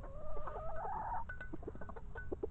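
Hens cluck close by: a drawn-out, warbling call gives way to a string of short, quick clucks over faint background noise.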